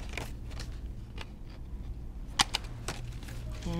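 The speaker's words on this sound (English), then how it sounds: "hole puncher right in the middle like that to the right of your cut" A hole puncher snaps through paper for a pinwheel craft, two sharp close clicks in quick succession against quiet handling noise.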